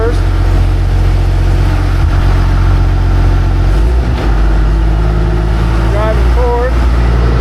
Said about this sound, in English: So I'm gonna go ahead and fire it up, get it warmed up